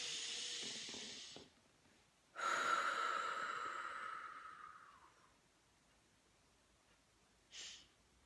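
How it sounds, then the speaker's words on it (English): A deep breath drawn in slowly and released, an airy hiss of inhale followed by a longer exhale, close and quiet, ending with a short second breath. "Deep breath."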